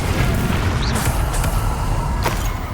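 The Confringo fire spell in Hogwarts Legacy bursts as a loud, close explosive boom with rumbling low end and sharp crackles layered over it, followed by a couple of quick impact hits.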